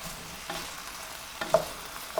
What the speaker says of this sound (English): at this point the mushrooms are frying